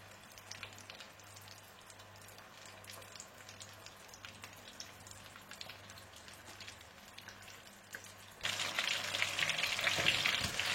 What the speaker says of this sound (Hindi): और इसके बाद आप इन्हें डीप फ्राई कर लें।